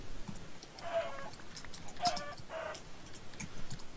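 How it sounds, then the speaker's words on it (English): Chickens in a survival video game give several short clucking calls in quick bursts, fairly faint over a soft noisy background. "There are quite a lot of chickens around here."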